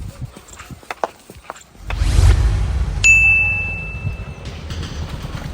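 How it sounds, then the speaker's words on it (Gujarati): A phone gives a single sharp, bright message notification ding that rings out briefly and clearly over an outdoor village background of rumble and faint footsteps. "કોક મેસેજ આવ્યો ચંપુલાલ."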